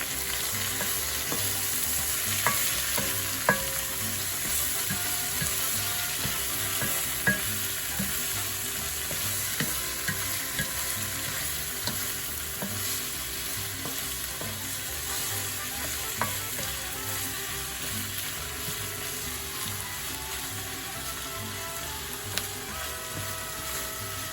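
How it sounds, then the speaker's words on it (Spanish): Tomato stirred into a pan of browned onion, frying with a steady broadband sizzle and repeated scraping clicks from the spoon, close and alone with no talk. "Ahora vamos a agregar el tomate. Y vamos a mezclar un poquito."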